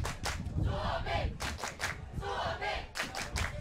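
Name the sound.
crowd cheering at ultimate frisbee match, Finland vs Italy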